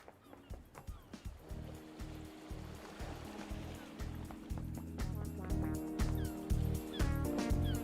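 Seagulls cry over a rhythmic music bed and rolling surf in the video game Paradise Killer, their calls moderately loud and mixed into the steady soundtrack.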